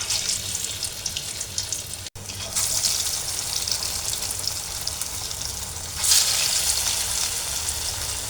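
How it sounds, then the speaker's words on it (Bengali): Malabar spinach leaf fritters deep-fry in hot oil, a loud, dense, unbroken bubbling sizzle that briefly cuts out and later swells as more batter goes in. "এভাবে আমি বড়াগুলো সবগুলো ভেজে নেব।"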